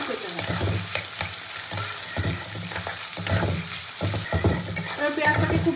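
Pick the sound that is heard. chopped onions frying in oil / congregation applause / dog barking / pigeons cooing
chopped onions frying in oil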